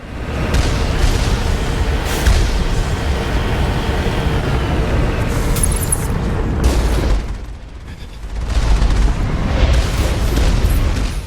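Heavy booming explosions and gunfire from Mass Effect's automated turrets, loud and rumbling with repeated blasts, a brief lull near the end, then the barrage resumes.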